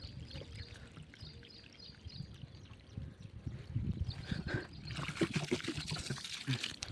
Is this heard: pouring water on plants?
yes